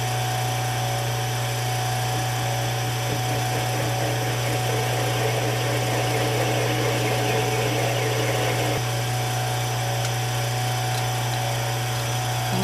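A metal lathe turns down a dome with the cross feed worked by hand, giving a steady, close machine whine over a constant low hum that runs without a break.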